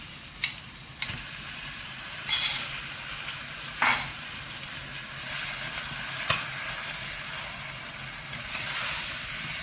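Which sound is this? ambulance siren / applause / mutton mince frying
mutton mince frying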